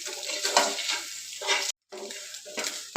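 Boiled eggs stirred into fried garlic in a pan for an egg potato masala, with close, steady sizzling and scraping that cuts out briefly before resuming.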